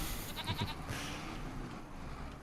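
Goats bleat a few times in a Farming Simulator 25 farm scene, short nasal calls clustered early over a steady low background hum of game ambience.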